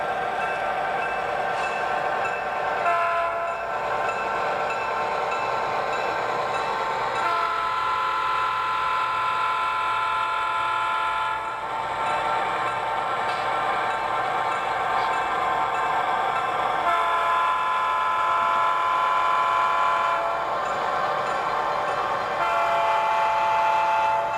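A freight train rolls slowly into a small town, steady rumbling wheels and squealing metal under a long sustained horn blast, loud and continuous throughout.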